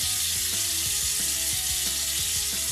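Running tap water rinses alum block residue off a freshly shaved face, a steady broadband splashing hiss that stays loud and constant throughout, with no talking.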